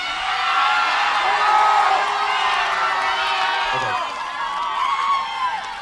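A crowd of marching band members at band camp cheers and shouts together on a field, a sustained mix of whoops and yelling voices at moderate distance.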